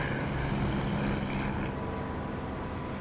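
With the canopy closed in a flight simulator game, a propeller aircraft engine drones in a steady, muffled hum that stays continuous and even, with little airy rush.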